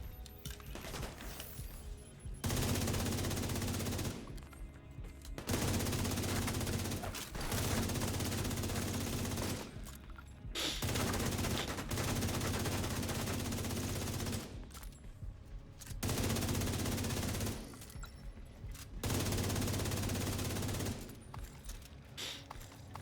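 Long sustained bursts of automatic gunfire firing incendiary bullets in The Division 2, several loud sustained volleys separated by short pauses, with faint clinks between them.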